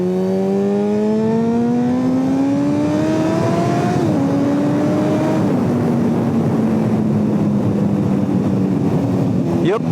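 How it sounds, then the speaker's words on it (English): A 2005 Honda Fireblade CBR1000RR superbike engine revs loudly and continuously, its pitch climbing steadily with brief dips at gear changes, close and dominant throughout. "I've gotten a Fireblade CBR 1000RR from 2005."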